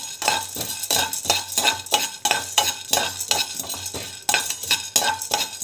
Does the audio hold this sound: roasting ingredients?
yes